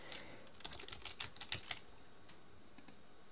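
Quiet tapping on a computer keyboard, a short burst of soft irregular keystrokes followed by a pause and two final clicks, heard alone at close range.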